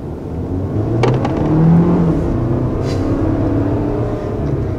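A 2021 Volvo XC40 in dynamic mode accelerating hard, its engine note and road noise swelling then holding steady from inside the cabin, with no talking.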